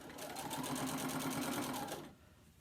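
A sewing machine runs in one steady, continuous stitching burst on a mini quilt for about two seconds, close and even, then stops abruptly.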